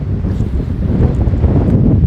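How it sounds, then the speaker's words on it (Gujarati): Strong gusting wind blows by a lake among thorny acacia trees, a loud, close, low roar buffeting the microphone with no break. "આ પવન પવન પવન એટલો બધો છે ને કે એની હદબારો પવન અત્યારે ફેંકાઈ રહ્યો છે."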